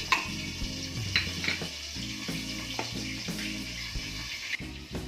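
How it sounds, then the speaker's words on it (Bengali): Fish heads fry in a pan with a constant close sizzle, and the scrape of a utensil repeats as they are turned and stirred. "এবার আমি মাথাগুলোকে উল্টে পাল্টে ভালোভাবে ভেজে নেব"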